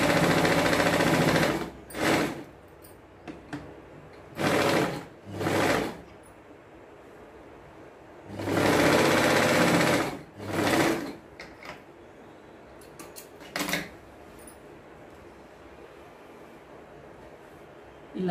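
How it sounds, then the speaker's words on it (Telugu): A sewing machine stitching the lining of a high-neck designer blouse, running in several loud bursts of a few seconds each separated by pauses with small handling noises, close and alone. "దీన్ని ఇప్పుడు ఇలా మడుచుకునేసి ఇక్కడ పైన స్టిచ్ వేసేయాలి."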